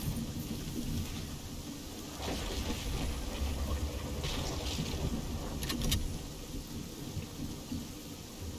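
Steady rain pours in a Fortnite storm, with low rumbling thunder rolling underneath and a few sharper cracks, loud and continuous throughout.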